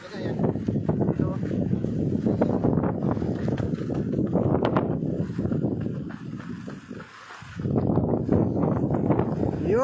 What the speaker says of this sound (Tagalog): It's windy day.